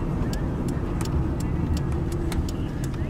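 A 1990 Toyota Camry LE V6 cruises on a test drive, its steady, muted engine and road hum filling the cabin evenly with faint ticking over the top and no talk.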